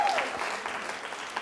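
An audience at a college anniversary quiz show in Jaipur claps, a brief dense burst of applause that fades slightly over about a second.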